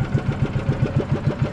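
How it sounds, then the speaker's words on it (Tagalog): A small fishing boat's engine runs steadily at idle, a close, loud, regular low putter of even beats with nothing else over it. "Oh, ganda na tulog ng makina mo."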